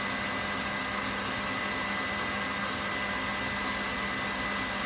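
Ice cream mixture whirred by an electric mixer, a loud, constant motor drone with a steady hum and no pauses, close by and unaccompanied by voices.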